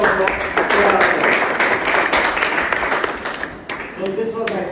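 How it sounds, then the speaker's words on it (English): An audience gives a scattered round of applause: sharp individual claps ring out irregularly, fairly close, while a person keeps talking over them. "Let's give a huge round of applause"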